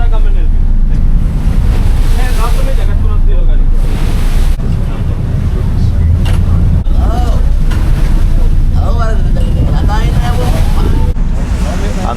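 A whale watching boat crosses open sea off Mirissa, Sri Lanka, with a steady wash of waves and engine rumble mixed with heavy wind buffeting the microphone, while people talk intermittently over the noise.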